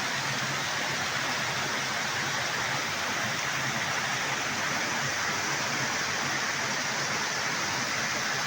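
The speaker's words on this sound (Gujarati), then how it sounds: "કેટલો સરસ મજાનું પાણી જાય છે" A constant, dense rush of flowing water, loud and even throughout, like water pouring steadily nearby.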